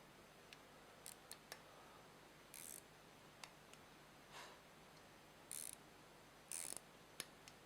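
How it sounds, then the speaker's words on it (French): A torque wrench tightens a fourth-stage compressor valve to 7 Nm on an Atlantic Nardi compressor, with sparse faint clicks and short ratcheting bursts against a quiet background. "La clé dynamométrique, 7 Nm."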